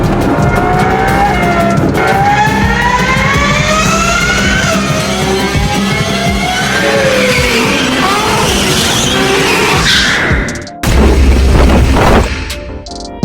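Ferrari racing at speed with long rising engine whines and squealing tires as it skids, then a sudden loud impact near the end followed by a brief rumble.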